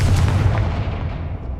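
A Confringo blasting spell in Hogwarts Legacy lands as a loud, deep, booming blast with a rumbling low end, then fades steadily over a second and a half.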